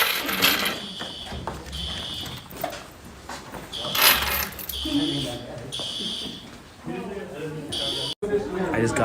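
A school fire alarm rings in repeated loud electronic bursts with short gaps, while students chatter and move about the classroom and an adult voice speaks over the noise.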